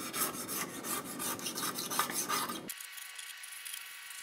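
Razor blade in a holder scraping old RTV sealant off the differential cover bolts of a Ford Mustang 7.5 or 8.8 rear axle, rapid rhythmic rasping strokes up close, then stopping abruptly, leaving quiet.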